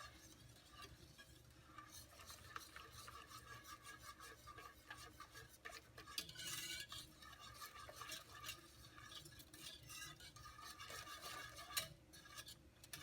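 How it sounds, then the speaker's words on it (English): A whisk stirs peanut butter into spicy sweet potato soup with faint, rapid scraping and swishing strokes against the pot. The rhythm is steady and continuous, and no one speaks. "So whisking the peanut butter into the soup."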